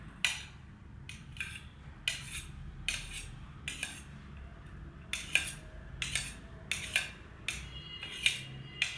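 A knife cuts a peeled banana into neat pieces on a board while sweet avalakki poha is being made, giving a steady series of sharp, close taps and clicks at irregular intervals with no talking.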